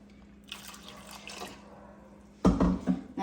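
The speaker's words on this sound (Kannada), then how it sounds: "ಸ್ವಲ್ಪ ನೀರು ಹಾಕೋಣ." Water pours into a pan of fish curry with tomato in a home kitchen, starting with a faint trickle and ending in a short, louder splash.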